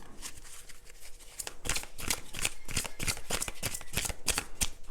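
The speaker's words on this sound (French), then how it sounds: "redistribuer toutes les cartes" Cards are shuffled and gathered by hand for a new moon card reading, close-up crisp bursts of riffling and sliding paper, with short pauses between, no voices.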